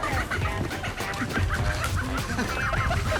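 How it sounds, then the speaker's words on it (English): A chicken being chased clucks and squawks repeatedly in excited bursts over scuffling and rustling noise, fairly close and busy throughout. "Not easy to catch a chicken."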